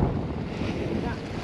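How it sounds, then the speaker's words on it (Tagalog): Strong wind at sea roars steadily across the microphone during a fishing outing off the Ternate, Cavite coast, a dense, unbroken rush with no pauses. "Sobrang lakas nga ng hangin eh."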